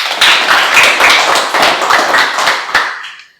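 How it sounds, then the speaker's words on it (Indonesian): A lively round of applause from a small group in a university classroom, hands clapping quickly and close by, tapering off at the end. "Tepuk tangan untuk Rafasan."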